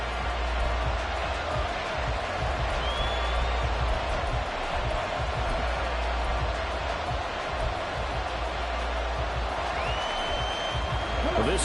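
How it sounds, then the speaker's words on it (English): Stadium crowd noise in Madden 24 during a Lions vs. Steelers game, a steady dense roar from a large crowd trying to force a false start, running continuously under a commentator's voice. "this crowd trying to force a false start here"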